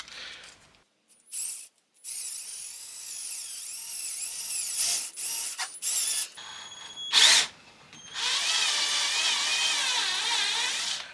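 A power drill whirs in short bursts, stopping and starting several times, then runs in one longer, steady stretch near the end; close and fairly loud.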